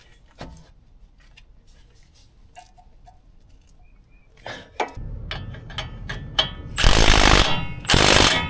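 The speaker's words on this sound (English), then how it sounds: "start tightening all those nuts, 2 of them" Tie rod nuts being tightened on a Chevy Silverado 1500 steering linkage, with quiet intermittent ticks and clicks, then louder ratcheting and metallic rattling bursts toward the end.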